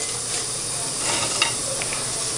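Hands knead crumbled crackers into ground beef for meatloaf, giving a soft, moist squishing and shuffling that stays close and fairly quiet, with no talk.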